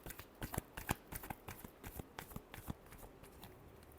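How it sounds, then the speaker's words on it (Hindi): Tarot cards being shuffled by hand, a quick run of crisp riffling and slapping bursts, close and fairly quiet, with no talking over it. "last shuffle"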